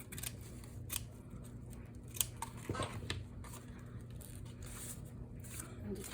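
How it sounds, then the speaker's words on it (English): Scissors snip repeatedly through excess lace on a junk journal, quiet close crisp cuts in an irregular rhythm over a faint steady hum. "I'm going to trim off the excess of the lace that's hanging out."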